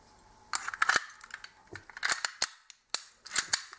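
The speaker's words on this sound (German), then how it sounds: "Man legt schon mal die Führungsstange mit Feder rein. Dann Schlitten drauf, nach hinten." Metal parts of a Kimar Mod 92 Auto blank pistol click, snap and scrape as the guide rod with spring goes in and the slide is fitted on. The sharp clicks are close and irregular and there is no voice.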